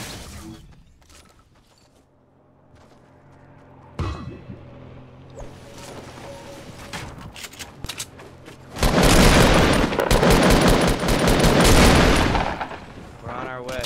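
Submachine gun fire in Fortnite, played on Xbox, bursting loud and dense in the second half after quieter scattered game sounds and a sharp thump earlier, with a voice talking across it.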